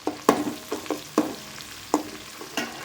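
Tomato and onion sizzle in a pan for rava kichadi, with a steady quiet frying hiss and about eight sharp scrapes and clinks from a spoon stirring at uneven intervals, close and with no talk.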